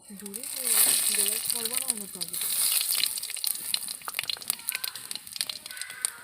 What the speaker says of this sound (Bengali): 2টো শুকনো গোটা লঙ্কা ভেজে নেব